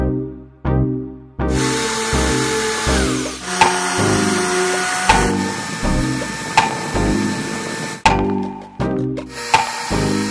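A power drill bores a large hole to seat a nut bolt head, whirring loudly in repeated bursts with brief stops in between, its pitch shifting as it cuts into the material.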